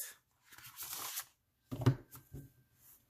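A deck of Star Trek tarot cards riffle-shuffled, one soft papery burst then a sharper, louder riffle with a brief patter of card cascading after, close up and alone.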